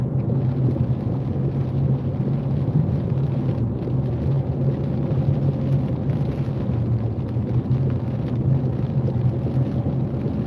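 An old truck engine rumbling loudly while driving in rain, a continuous heavy low drone with road and wind noise, steady and close throughout.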